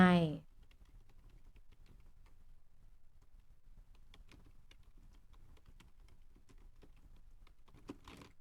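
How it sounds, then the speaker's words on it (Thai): Someone typing a name on a computer keyboard while using 3D tool-design software in a lesson. A brief voice opens the clip, followed by quiet, sparse key clicks in a hushed room. "พิมพ์ชื่อของตัวเองเข้าไป"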